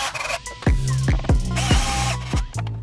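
A 7mm socket on a ratchet loosening a hose clamp on a Ford Focus RS during a shifter cable bracket bushing install, giving several short, close ratcheting bursts in a quiet workshop.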